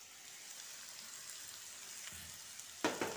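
Spices with potato pieces, chili powder, salt and turmeric frying for an aloo capsicum curry, a soft steady sizzle with a few stirring knocks toward the end.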